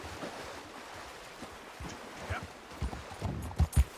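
Horse hooves clip-clop in Red Dead Redemption 2, soft, uneven steps over a low ambient wash that build into a few louder, heavier thuds near the end.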